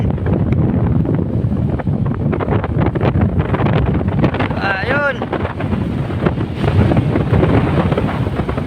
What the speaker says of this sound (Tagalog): Biglang lumakas ang amihan.